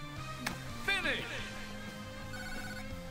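A phone ringtone chirps briefly and faintly amid the sounds of a Nickelodeon All-Star Brawl game, with someone talking over it.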